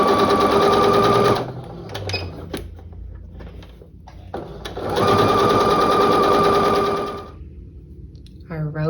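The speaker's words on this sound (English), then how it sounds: "Sew with a 1/4 inch and we're almost done." Sewing machine stitching rows of a quilt block with a quarter-inch seam, running in two long steady bursts separated by a pause with small handling sounds.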